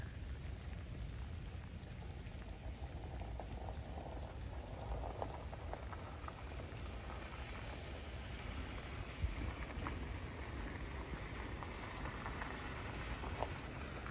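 Steady rain falling, a dense continuous patter with scattered drops standing out, no voices.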